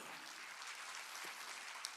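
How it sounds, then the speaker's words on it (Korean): A church congregation claps together, a faint, steady wash of applause heard from a distance that holds evenly for about two seconds with no voices. "박수 쳐줘요."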